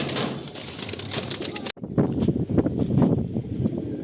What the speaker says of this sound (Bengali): দেখো, রটেলো পায়রা হচ্ছে এটাই